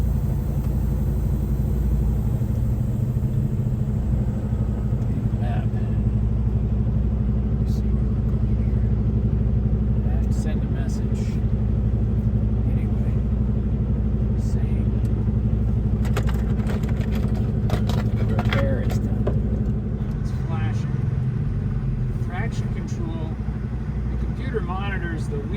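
A semi truck's engine idles after a reboot, its steady low diesel rumble running continuously and close by while people talk over it.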